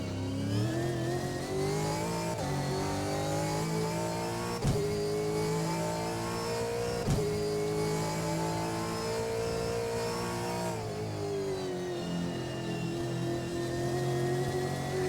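Race car engine in a VR racing game, revving loud and steady with harmonic whine that rises and dips as it accelerates and shifts, continuous throughout with brief sharp gear-change breaks.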